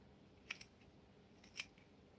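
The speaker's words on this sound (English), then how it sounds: "And then I just cut it between the 2 rows of stitching" Two quick snips of scissors cutting through knitted fabric between two rows of stitching, each a short crisp double click, close and faint in an otherwise quiet room.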